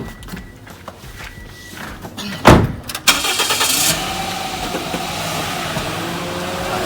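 A 2012 Toyota car with newly replaced shocks starts with a sharp thump and clatter, then its engine settles into a steady, moderately close hum as it pulls away on a test drive.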